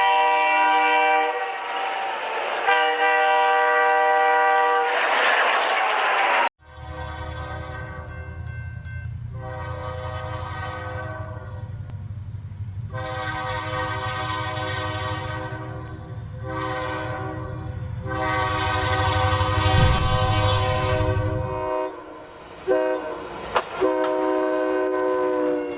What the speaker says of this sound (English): The front of the train acts like a battering ram, sending snow flying in every direction.